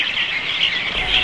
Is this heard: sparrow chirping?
yes